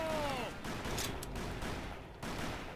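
Video game gunfire in a Western-style shootout, a steady crackle of shots running through the whole stretch at fairly loud level, with a brief whistling tone early and occasional voices mixed in.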